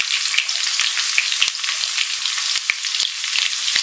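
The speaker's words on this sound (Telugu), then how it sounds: "ఈ ఆనియన్స్ కొంచెం వేగనిద్దామండి." Chopped onion frying in a pan with curry leaves for rava kichadi, a loud, bright, continuous sizzle with sharp crackles and pops scattered throughout, close and uninterrupted by speech.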